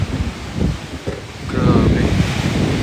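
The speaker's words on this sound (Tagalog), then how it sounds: "Grabe hangin, no?" Strong wind buffets the microphone in heavy gusts, with a voice speaking briefly over the roar.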